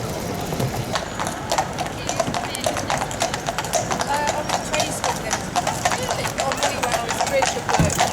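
Horses' hooves clip-clop steadily on a road as riders pass, a brisk, continuous run of sharp hoof strikes under background voices and street noise.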